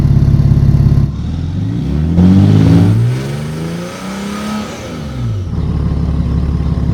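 A Mercedes car engine runs on waste motor oil on a cold day, its steady loud idle swelling into a rev that rises and falls before settling back to idle.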